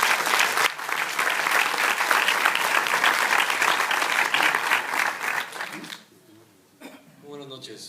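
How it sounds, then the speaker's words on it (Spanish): Loud applause from an audience greeting Dr. Carlos Novo Olivas at a talk on early diagnosis and prevention of dementia, a dense sustained clatter of many hands that fades out near the end as a voice begins speaking. "Démosle un fuerte aplauso al doctor Carlos Novo Olivas"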